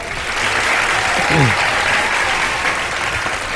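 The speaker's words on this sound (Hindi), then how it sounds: "तो हमारे कंटेस्टेंट्स के लिए बहुत सारी तालियां जनाब" Studio audience applauding contestants on a Ramadan TV game show, a steady wash of clapping throughout with a brief voice or whistle-like sweep partway through.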